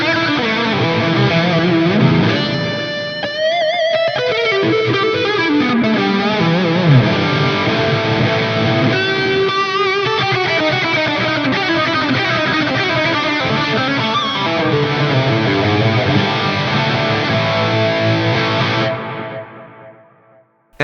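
A heavily distorted high-gain lead guitar through an FM9 plays sustained, bending notes that trail off through echoing delay repeats and roomy reverb, loud and continuous throughout.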